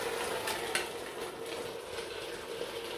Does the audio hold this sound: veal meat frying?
yes